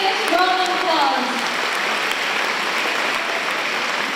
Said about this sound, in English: Let's give her a biggest round of applause.